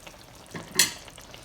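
Shakshuka in a pan gives a brief burst of sizzling as the pan is shaken, rising over a low bubbling background. Close, short and without talk.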